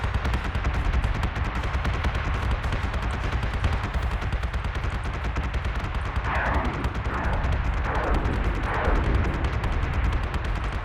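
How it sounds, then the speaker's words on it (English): Flak batteries fire in Battlestar Galactica Deadlock, a dense, continuous barrage of rapid gunfire and bursts over a heavy rumble. Loud, unbroken, and without voices. "Here our own missiles getting hit by our own flak cloud."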